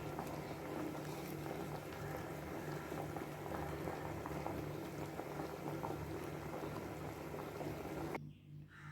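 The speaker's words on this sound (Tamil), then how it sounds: "குழம்பு நல்லா கொதி வந்துட்டு" Chickpea kurma curry bubbles steadily in a pot, a soft continuous gurgling boil heard close up without speech, cutting off abruptly near the end.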